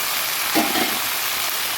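Potato pieces and split green chillies frying in hot oil make a dense, continuous sizzle, close and steady, with a brief stirring rustle partway through.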